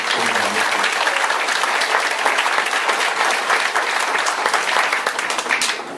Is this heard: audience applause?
yes